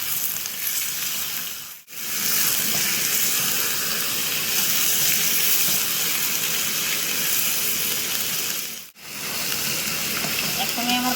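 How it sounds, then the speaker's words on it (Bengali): Chicken chotpoti cooking in a pan gives a loud, steady frying sizzle that runs nearly the whole time. It breaks off briefly twice with short gaps, and faint stirring is audible underneath. "ভাজা হচ্ছে তো"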